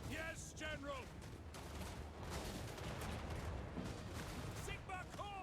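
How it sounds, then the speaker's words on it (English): Cannon and gunfire from a fantasy strategy battle game rumble in a dense, continuous barrage, with brief high whistling and shrieking effects layered over the din. "Cannons aim for there as well."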